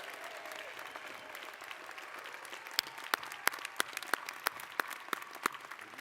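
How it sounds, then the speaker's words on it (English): Spring commencement crowd applauding families and supporters, a broad steady wash of clapping, with sharper close individual claps standing out in the second half. "Give them a big round of applause."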